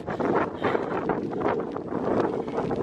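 Steady wind blowing outdoors on a hiking trail from Selanger to Matfors, a continuous broadband roar buffeting the microphone with gusty swells and no voices.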